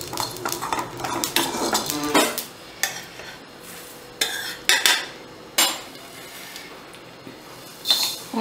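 Mustard seeds splutter and pop in hot oil in a pan, with chilli and spices already in, giving sharp irregular crackling bursts among clinks of a metal spoon against the pan.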